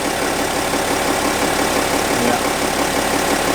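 A Porsche Cayenne 3.0 TDI diesel engine idles with a steady, dense rumble during a transmission service, close and loud, with a short spoken word over it.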